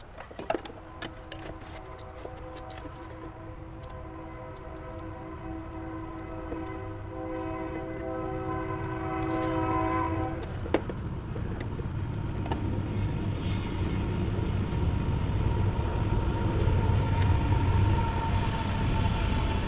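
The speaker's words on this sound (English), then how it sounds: "Sorry about the train noise here." A train rumbles past nearby, its horn sounding in long sustained tones before the heavy rolling roar of the cars builds and continues.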